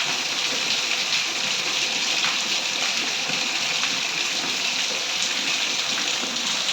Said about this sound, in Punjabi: ਬਹੁਤ ਜ਼ਿਆਦਾ ਮੀਂਹ ਪੈ ਰਿਹਾ ਉਹ ਬਾਹਰ-ਬਾਹਰ ਸਭ ਕੁਝ ਭਰ ਚੁੱਕਾ